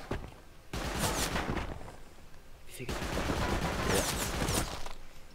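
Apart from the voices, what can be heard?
auto turret firing in Rust video game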